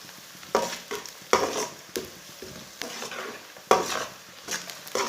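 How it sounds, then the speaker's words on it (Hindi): Finely chopped onion frying in oil over medium heat while being stirred, with a steady low sizzle broken by repeated scraping strokes of a spoon against the pan, close up. "प्याज को हल्का सा ब्राउन कर लेंगे।"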